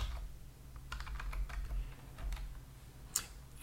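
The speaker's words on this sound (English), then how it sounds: "we have to type in this number here" Numbers being typed into a spreadsheet on a computer keyboard make a quiet, irregular patter of key clicks over a low hum, with a sharper tap near the end.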